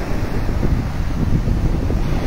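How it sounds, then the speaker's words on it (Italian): Sea waves and strong wind on the Calabrian coastline near Cutro, a loud, continuous roar of surf mixed with buffeting microphone wind noise, steady throughout with no voices. "siamo in pratica sulla linea di costa e il rumore del mare è"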